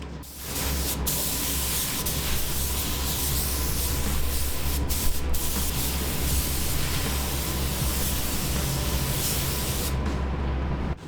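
A spray gun lays down a coat of blue paint on Dig Dug, a continuous loud hiss held steady for about eleven seconds with only brief dips, close and alone.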